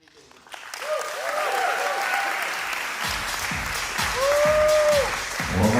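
A wedding reception crowd bursts into sustained applause, dense clapping building within the first second and continuing strongly to the end, with a few voices cheering under it.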